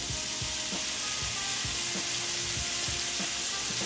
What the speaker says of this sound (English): Then add olive oil and put the steak in.